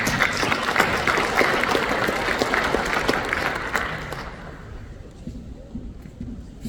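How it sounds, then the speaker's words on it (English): Audience at an army modernization panel applauding: dense, loud clapping with crowd murmur that holds for about four seconds, then quickly dies away to scattered claps and room noise. "Let's give him a round of applause."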